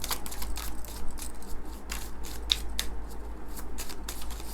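Tarot cards being shuffled by hand at close range during a Hindi tarot reading, with rapid, crisp riffling and flicking in a steady rhythm over a low constant hum, no voices.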